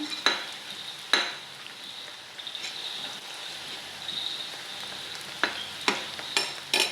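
Vegetables with capsicum stir-fried in a pan for American chopsuey, a steady sizzle broken by sharp metallic clanks of the spatula at irregular intervals, heard close with no voices.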